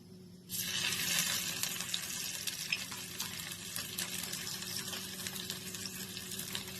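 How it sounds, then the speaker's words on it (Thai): Thai red curry paste mixed with shrimp paste stir-frying over low heat in a pan for a southern Thai minced pork khua kling, a steady close sizzle and crackle with scraping stirs, starting abruptly and continuing evenly with no talk. "เราจะเริ่มผัดเครื่องแกงเลยค่ะ"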